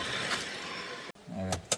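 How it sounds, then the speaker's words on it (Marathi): A car engine runs close by with a steady, low, throbbing hum, cut by a brief dropout and then picking up again with a short louder burst, on a rainy-season village outing. "चालू आहे ना गाडी"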